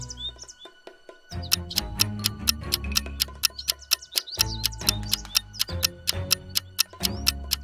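Cartoon parrots perched in a tree chirp and tweet in quick, high calls, sitting over a steady rhythmic ticking. After a short quiet gap near the start, the chirping carries on brightly with no voices.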